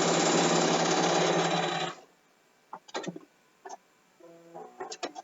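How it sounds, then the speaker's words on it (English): A sewing machine stitches binding onto a quilt in a steady, rapid, loud whir for about two seconds, then stops, leaving a few scattered clicks and light handling knocks. "I'm going to lift up the top part of it and just sew on the bottom for about 3 inches"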